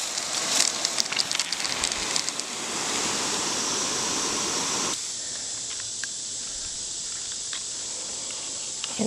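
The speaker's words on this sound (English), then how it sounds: "I did not turn my hose on full blast, but let's see." A new garden hose sprays water in a garden, not at full pressure, a hissing spray with spattering at first, then a steadier, quieter stream, close and with no talking.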